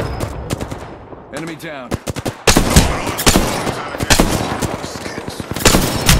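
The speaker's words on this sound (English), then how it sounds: "Opening fire." A longbow weapon fires rapid bursts of gunshots in a video game, loud and close, with quick irregular volleys and a short spoken callout between them.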